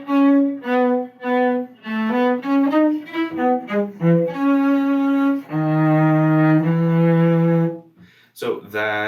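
Cello playing the fast section of La Cinquantaine from Suzuki Cello Book Volume 3, quick bowed notes in a lilting run, then longer sustained low tones, close and solo, ending with a short scrape.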